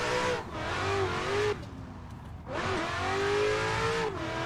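Adam LZ's RTR Spec 5D drift car on a track, the engine revving hard and loud, then briefly backing off and surging again with climbing rpm and a touch of tire noise.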